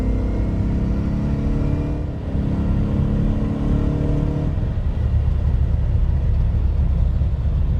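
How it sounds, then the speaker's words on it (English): A 1978 Aston Martin V8 Vantage with a molded flip tail drops a gear and accelerates hard, a loud, steady engine roar whose pitch climbs and then breaks into a deeper rumbling surge, close and without talk. "if you want to get on it and have the might of the V8 Vantage, just drop it a gear and get on it"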